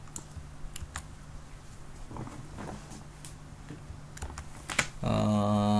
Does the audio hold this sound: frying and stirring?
no